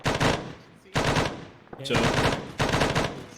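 An M240 machine gun fires in Arma 3 in several sustained bursts, each a loud rattling stream of rapid shots separated by short pauses, with a voice talking briefly among the volleys.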